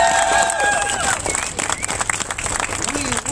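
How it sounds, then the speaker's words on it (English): Crowd applause and cheering at an outdoor anti-war protest rally in Salt Lake City, a burst of clapping and shouting voices that thins into scattered claps and crowd murmur. "worthy of a round of applause"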